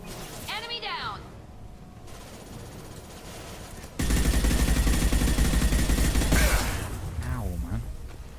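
Rockets and missiles slam into the player in a sci-fi video game, with a burst of loud, dense, roaring impacts and rattling blasts in the middle, framed by quieter stretches and brief vocal sounds.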